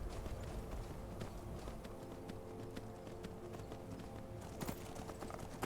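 Horse hooves beat out a steady, rapid clip-clop of galloping in a Skyrim video game, continuous and moderately faint under a layer of game background sound.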